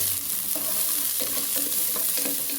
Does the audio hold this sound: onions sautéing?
yes